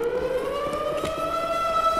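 A steady wailing siren in the video game Nico's Nextbots holds its pitch over two seconds, sounding electronic and slightly distant, with no voices over it.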